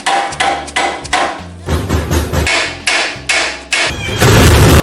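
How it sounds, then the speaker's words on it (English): Repeated hard metal hammer blows on a car's steering tie rods while they are being removed, loud and close, struck in quick irregular bursts with short pauses between groups. "They just needed a couple good more whaps with a hammer"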